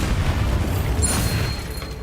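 A Bombarda spell explodes in Hogwarts Legacy, a heavy, sustained rumbling boom that fills the clip loudly and then tails off slightly toward the end.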